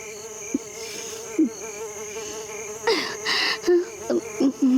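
Mosquitoes whine in a Hindi cartoon as a steady, high buzzing drone that runs through the whole scene with small swells, while characters speak briefly near the end.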